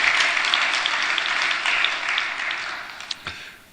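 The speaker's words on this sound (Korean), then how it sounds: "그런 의미에서 박수." A church congregation applauds after a choir's hymn, a thick wash of clapping that holds steady and then gradually thins, ending with a few scattered last claps.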